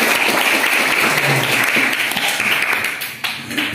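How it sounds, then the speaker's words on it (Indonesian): A crowd at a religious gathering applauds steadily, dense continuous clapping that stays loud throughout and slowly thins toward the end. "Tepuk tangan teman-teman kita."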